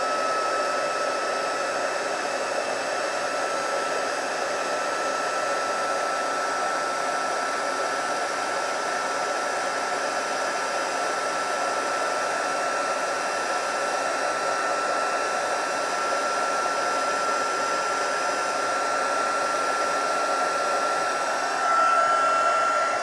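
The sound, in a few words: heat tool warming embossing on a card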